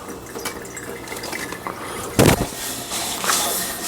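Running water splashes as something gets rinsed off during cooking of chicken soup, a close, uneven trickle with a loud burst of splashing midway and another surge near the end.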